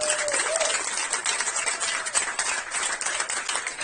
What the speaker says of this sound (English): one last round of applause for your